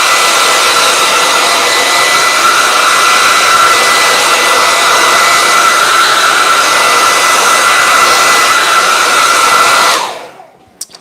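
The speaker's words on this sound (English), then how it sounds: "I'm going to give this a little drying with my hairdryer" A hair dryer blowing on paint in a sketchbook, a loud, close, steady whirring roar that runs unbroken and then cuts off abruptly near the end.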